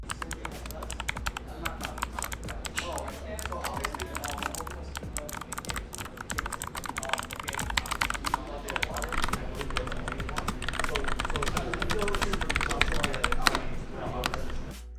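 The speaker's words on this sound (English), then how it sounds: "we'll give you guys a demo of both the blue and red versions" Rapid typing on a Cooler Master 60% gaming keyboard fitted with TTC blue and red switches, a fast stream of close, crisp key clacks running steadily for the whole stretch.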